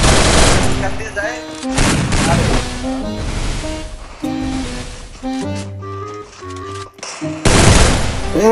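Rapid gunfire bursts from a shooter video game, loud cracking volleys and automatic strings that repeat in clusters with short gaps, a few tonal game effects between them.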